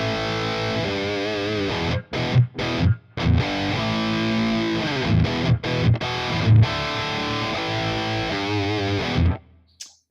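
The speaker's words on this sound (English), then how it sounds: "I like the doubler, but I also like to have like a dry signal going through the middle." Distorted electric guitar chords ring out through a Quad Cortex doubler effect with a dry signal in the middle, a thick, steady wall of sound with a few short breaks before fading out at the end.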